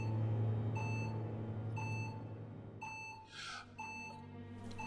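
Regular electronic beeps like a fire alarm in the video game Biomutant, each a bright tone repeating about once a second over a low droning game ambience, with a brief whoosh partway through.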